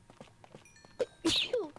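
A single sharp sneeze bursts out close to the microphone during a home livestream, following a few soft shuffling sounds.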